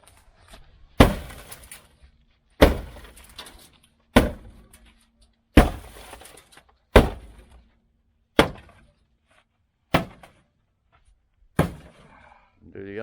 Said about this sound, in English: give it a few smashes with the sledgehammer